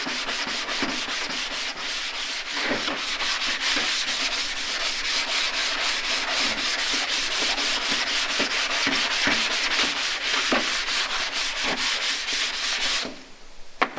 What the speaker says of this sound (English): so now I'll just take this and sand over it